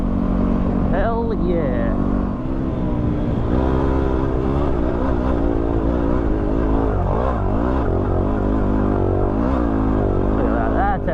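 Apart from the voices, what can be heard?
Kawasaki WR250R motorcycle engine riding in gear on clay pan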